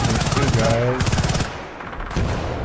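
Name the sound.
gunfire in Battlefield Bad Company 2 video game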